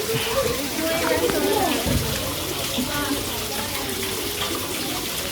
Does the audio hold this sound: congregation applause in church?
no